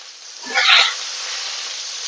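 Whole garlic cloves drop into hot oil over spice paste in a home kitchen, setting off a sudden loud sizzle that quickly settles into a steady, even frying hiss.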